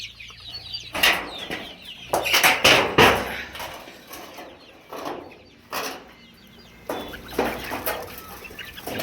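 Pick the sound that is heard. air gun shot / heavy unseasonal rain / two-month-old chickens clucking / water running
two-month-old chickens clucking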